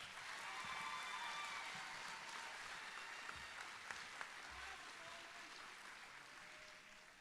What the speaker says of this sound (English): let's give this group one more round of applause